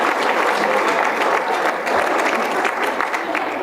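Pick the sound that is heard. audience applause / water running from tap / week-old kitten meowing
audience applause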